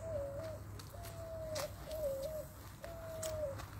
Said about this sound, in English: See, hear the owls?